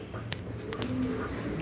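Pigeons coo softly in a low, rolling murmur while being handled on a pigeon farm, with a few brief flutters and light handling rustles close by and no talking.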